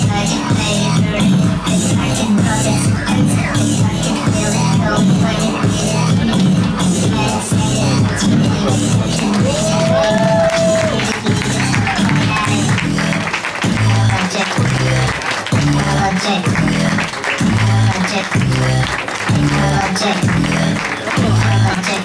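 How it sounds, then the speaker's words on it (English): Crowd at a New York Fashion Week show for Coco and Breezy, clapping and cheering over loud pulsing runway music with a heavy beat, the applause mostly buried beneath the track. "big round of applause, Coco and Tracy."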